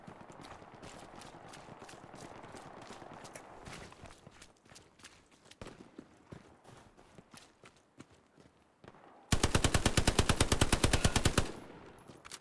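Gunfire rings out in the World War II shooter Hell Let Loose: scattered distant shots and footsteps, then a loud close machine-gun burst of rapid, evenly spaced rounds lasting about two seconds.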